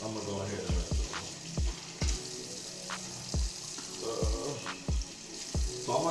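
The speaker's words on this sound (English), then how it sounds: "I'm gonna go ahead and rinse it off" Potatoes rinsed under a running kitchen tap during meal prep, with a steady rush of water broken by a dozen or so hollow clunks and knocks as they are handled, close and moderately loud.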